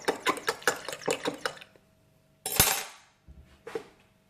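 Hot water and dish soap are stirred in a container to degrease a model part. Light clinking and splashing come in quick bursts, then a pause, then a louder slosh and a final short splash, close up.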